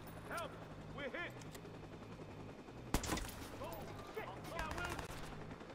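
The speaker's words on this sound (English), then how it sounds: "Who's shooting at me?" Bursts of gunfire in the open-world game Watch Dogs during an attack, with a sharp loud shot standing out amid busy background game sound and voices; the firing is fairly faint and mixed in the scene.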